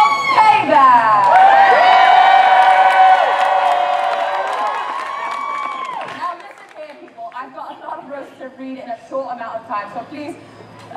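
An audience at a Renaissance Faire roast cheers and whoops loudly over sustained applause, then the noise fades into scattered clapping and murmuring.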